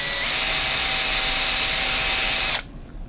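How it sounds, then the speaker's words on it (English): Power drill boring a small pilot hole straight down through a game controller shell, a steady high-pitched whine with a grinding edge that holds evenly for about two and a half seconds, then cuts off abruptly. "just take your drill, and I'm going to try to do this here, and hopefully the camera can pick it up, and just drill a hole straight down through"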